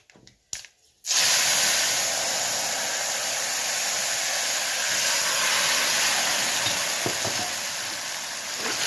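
A tempering (tadka) for a spring onion tamarind-jaggery stew sizzles in a pan. It starts with a few faint clicks, then bursts into a loud, steady, hissing sizzle that holds evenly to the end.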